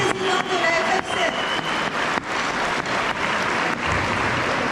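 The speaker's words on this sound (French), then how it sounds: "Merci d'applaudir Christian Babonneau" A festival audience applauds a guest of honour, Christian Babonneau, with steady, dense clapping that carries through the whole stretch, with a few brief dips in intensity.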